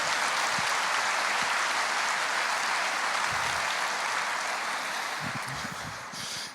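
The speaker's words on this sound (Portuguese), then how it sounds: "Você aplaude o Senhor ou não?" A church congregation applauding the Lord, broad sustained clapping filling the room and tapering slightly toward the end, with a few low thumps beneath.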